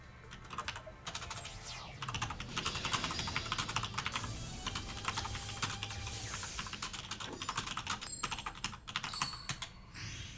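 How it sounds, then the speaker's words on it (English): Rapid typing on a computer keyboard, dense continuous clicking of keys up close, steady for about ten seconds with no talking. "Don't mind the clickies, I was just typing to somebody."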